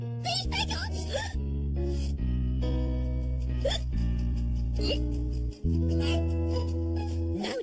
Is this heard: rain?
no